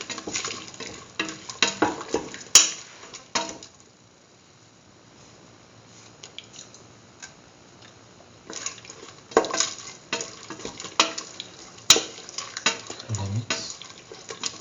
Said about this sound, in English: Upon mixing until all the ingredients are nicely incorporated.